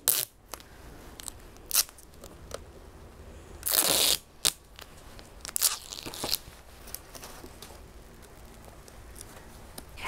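Tape pulled and pressed down to seal the lid of a plastic seed-sowing container for winter sowing poppies and artichokes, heard as close, scattered crinkly rips and crunches with one longer tearing stretch, no talking.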